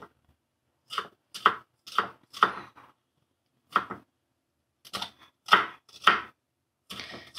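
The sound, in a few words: chopping onion with knife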